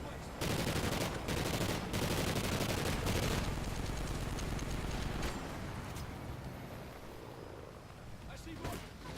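Rapid automatic gunfire in the Call of Duty Ghosts campaign, dense bursts of shots that are loudest early and then ease into scattered distant fire, with voices talking over the battle.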